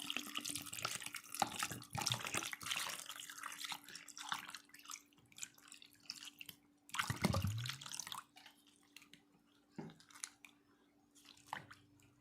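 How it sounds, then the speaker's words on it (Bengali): Cold water poured from a container onto mashed tamarind in a bowl, a burst of splashing and sloshing with squishy, dripping liquid sounds coming in uneven bursts, close and moderately loud. "এবার দিয়ে দেবো ঠান্ডা জল এক লিটার"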